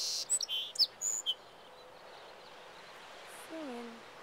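Small bird singing at dawn on a California Central Coast beach: several quick high chirps in the first second and a half, then a faint descending whistle, over steady surf-like background hiss.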